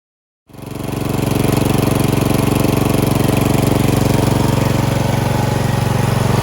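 A ZTR zero-turn lawn mower engine kicks in after a brief silence and then runs loud and steady with a constant droning hum, close by.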